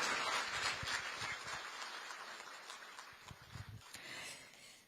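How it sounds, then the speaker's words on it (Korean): Large audience at a government policy briefing event applauds the prime minister: broad, crackling clapping that is loud at first and slowly fades over about five seconds. "큰 박수 부탁드립니다"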